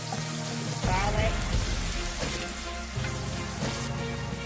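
Onions, scallions and garlic frying in coconut oil give a loud, steady sizzle with watery crackling that swells as the ingredients hit the pan, while a voice speaks over the cooking.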